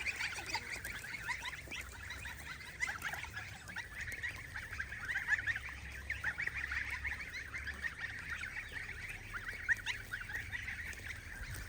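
Geese on a poultry farm honk repeatedly and loudly, several birds calling over one another in a continuous noisy chorus with no talking.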